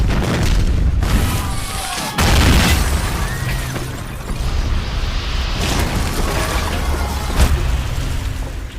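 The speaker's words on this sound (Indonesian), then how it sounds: "bom itu meledak sampai meruntuhkan seluruh desa" A loud, rumbling bomb explosion in a film, with heavy booms and crashing debris as a village collapses, dense and sustained like a cinematic blast.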